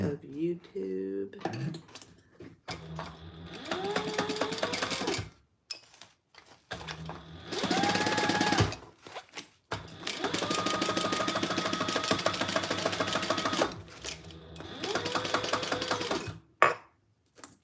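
A sewing machine stitches fabric in several runs of rapid, buzzing clatter separated by short pauses, close and fairly loud, with someone speaking briefly at the start.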